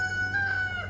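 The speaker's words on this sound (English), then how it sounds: "He's our rooster." Lavender, a homestead rooster, crows in one sustained, strained call lasting about a second, loud and close, with a steady low hum beneath it.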